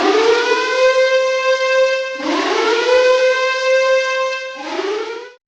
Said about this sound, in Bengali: শহরের পর শহর বাজছে এয়ার সাইরেন।